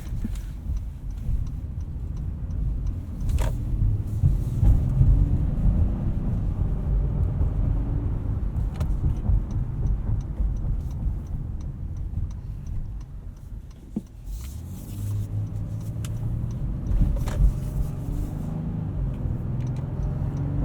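A 2019 Honda Passport Elite AWD's V6 engine while driving, a low steady hum mixed with road noise inside the cabin, with scattered light ticking clicks and no voices.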